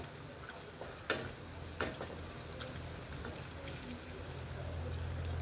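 Coconut-filled karanji pastries fry in oil as more oil is splashed over them, giving a steady close sizzle and hiss with a couple of brief sharp clicks, with faint talk underneath.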